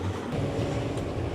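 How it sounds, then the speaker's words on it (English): The original Sound of Music tour bus drives through Salzburg, Austria, with a steady, close engine and road rumble heard from inside the vehicle. "So this is the Sound of Music bus that we are travelling around in."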